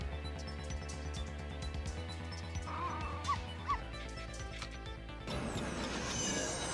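A dog in a Capcom game trailer lets out a couple of high, thin whimpering yips over layered music, which then shifts into a brighter, noisier passage.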